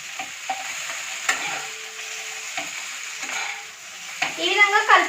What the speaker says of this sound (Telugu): హై ఫ్లేమ్లో పెట్టుకుని ఎంత ఫాస్ట్గా వీలైతే అంత ఫాస్ట్గా కలపండి.